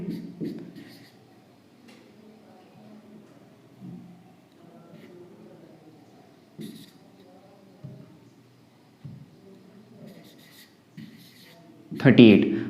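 Numbers are written on a board during an arithmetic progressions math lesson, making soft scratchy strokes in short bursts under a quiet voice explaining, with a louder scrape at the end.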